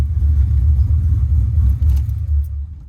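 Pontiac GTO engine running in fourth gear, a loud, deep, continuous rumble with slight surges, heard alone without voices.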